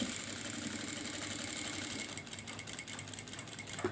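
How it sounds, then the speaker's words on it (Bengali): A sewing machine stitching a zipper onto a dress, a continuous fast mechanical whir and rattle heard close up, steady throughout with a slight drop in intensity midway, no speech. "আপনারা দেখতেই পাচ্ছেন এইভাবে সেলাই করে দেব, একদম এটার সাথে লাগিয়ে।"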